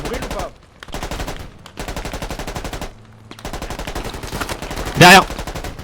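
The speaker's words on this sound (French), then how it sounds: "Continue de tirer." Automatic gunfire in the Squad video game during a desert battle, with sustained rapid bursts filling most of the clip and a louder, sharper blast near the end, with brief gaps between volleys.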